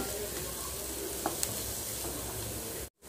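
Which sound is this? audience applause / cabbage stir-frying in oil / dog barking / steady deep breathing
cabbage stir-frying in oil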